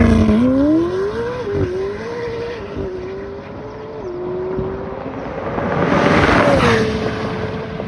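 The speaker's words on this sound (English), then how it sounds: "So, launch mode active." McLaren 765LT Spider accelerating hard in launch mode on cold Pirelli Trofeo R tires, engine note climbing through gears with a loud, continuous roar and a brief shift dip, no talk.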